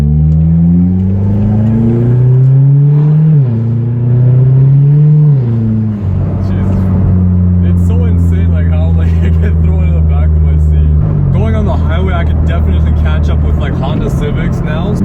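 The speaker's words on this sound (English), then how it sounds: "you just go for like a pull through all your gears" A Hyundai Genesis Coupe with a stage 2 tune pulls hard through its gears, the loud engine note rising in pitch, dropping at each shift and climbing again, with voices talking over it.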